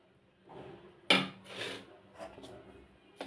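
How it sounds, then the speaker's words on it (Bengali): Rice flour cake batter being folded into foam in a bowl, giving soft scraping and sloshing strokes with a sharp utensil knock against the bowl, close and fairly quiet, in a few uneven bursts without talk. "এইভাবে আস্তে আস্তে মিক্সড করে নিতে হবে ফোমের সাথে।"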